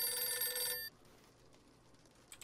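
A telephone in the horror video game Visage rings with a bright electronic bell tone for under a second, then cuts off into a low, quiet ambient hum with a faint click near the end.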